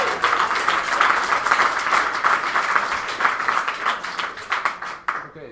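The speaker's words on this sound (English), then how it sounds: "can we have a huge round of applause then for our final speaker of the evening?" Audience at an evening tech meetup applauding the final speaker, dense sustained clapping from a room full of people that thins out and fades toward the end.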